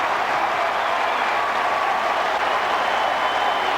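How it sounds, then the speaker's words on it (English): Mets fans in a baseball stadium cheering a two-out base hit by Piazza in the first inning: a steady, dense roar of crowd applause and cheering that holds at a constant level throughout. "the Met fans get a chance to cheer here in the first inning"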